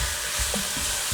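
Onions sautéing in a pan for rogan josh give off a steady, even sizzle. A few soft stirring bumps sit under the hiss, with no voices present.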